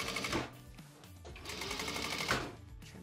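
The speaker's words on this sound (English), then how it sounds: "I'm using a welting foot that's specifically made to sew welting piping cord" A sewing machine with a welting foot stitches piping cord in a steady fast whirring run, close and clear, with a brief slowdown partway through and no talk.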